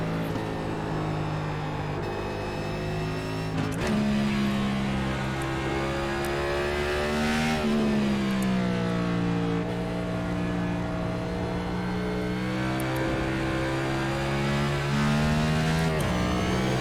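A NASCAR stock car engine at full throttle in iRacing at Circuit of the Americas (COTA): loud, continuous engine drone rising and falling through gear changes, with rev climbs and brief lifts, close up and alone.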